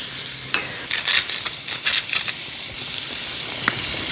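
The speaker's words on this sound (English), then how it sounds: "You wanna scrape up all those delicious bits at the bottom of the pan." Softening onions seasoned with salt and pepper sauté in a saucepan while a utensil scrapes the bottom, a soft sizzle under several close, sharp scraping strokes in quick bursts.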